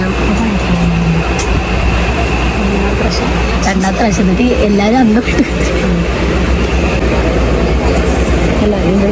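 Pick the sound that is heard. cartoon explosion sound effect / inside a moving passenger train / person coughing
inside a moving passenger train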